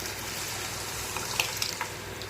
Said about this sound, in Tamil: அந்த பருப்பு எடுத்து இதில் நம்ம ஊற்றிக்கலாம்.